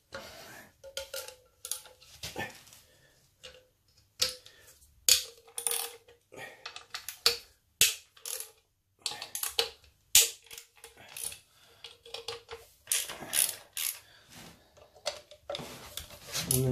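Loose 8mm bolts being worked on the engine casing of a Honda CB400T motorcycle, with irregular close metallic clicks, ticks and clinks of tools and bolts, separated by brief pauses.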